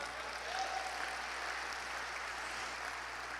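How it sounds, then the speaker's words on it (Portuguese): A church congregation applauds together, a steady, even roar of many hands clapping that holds for a few seconds at a moderate, somewhat distant level. "Agora sim, dê um aplauso ao Senhor."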